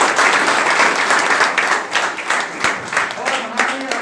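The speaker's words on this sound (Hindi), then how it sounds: "जोरदार ताली बजाते हैं।" An audience claps loudly and steadily throughout, honoring insurance agents at a gathering, with dense overlapping applause swelling and easing in waves.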